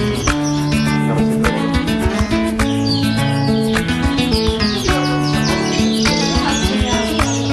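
Dense, continuous song from several red factor canaries, rapid chirps, trills and warbles, loud and close, filling the whole stretch with no voices.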